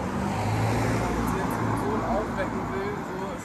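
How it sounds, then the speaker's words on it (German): Busy street traffic on a roadside in Ghana, with cars passing constantly in a steady, loud roar of engine and tyre noise, and faint voices underneath. "hier fahren ständig Autos. Ist Lärm."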